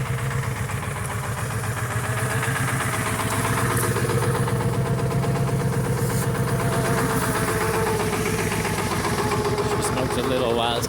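A 7.3 diesel engine with 506,000 miles, fresh glow plugs and a weak battery, idles steadily after a cold start, a continuous rough knocking rumble with the mic close by throughout.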